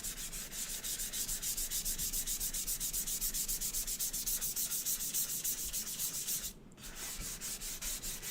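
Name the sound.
hand sanding wood with 400 grit sanding pad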